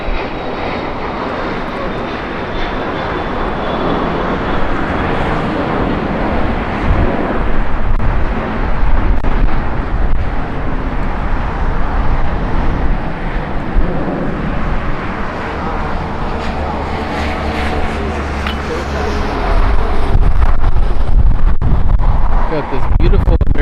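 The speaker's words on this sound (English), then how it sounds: "Got this beautiful American Airlines 777." An American Airlines Boeing 777 airliner at LAX roars steadily and loudly nearby, its jet engine noise building toward the end, with a voice talking faintly under it.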